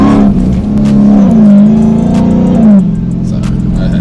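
A 1000-horsepower Dodge Hellcat's engine revs and pulls hard, a deep loud roar rising and holding through a gear change before easing off, heard from close by inside the car.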